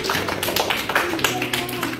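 Young pupils in a classroom clap repeatedly in quick, loose bursts nearby, and an adult voice speaks among the claps.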